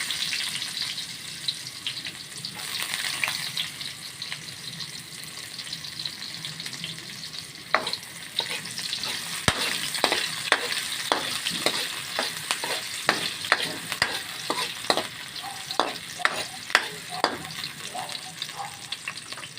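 Onions sizzle steadily in a hot pan, a bright continuous frying hiss, while a utensil stirs and scrapes against the pan in a quick series of close, sharp taps and scrapes through the second half.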